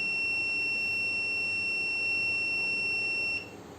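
A buzzer on a robotics project's motion sensor sounds a steady, loud, high-pitched electronic tone that holds for about three seconds and then cuts off.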